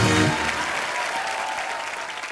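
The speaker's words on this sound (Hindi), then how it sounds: "जोरदार तालियां नेहा के लिए।" Loud studio audience applause for actress Neha Dhupia on a television comedy show, thick continuous clapping that follows a brief trailing musical tone at the start and stays strong throughout.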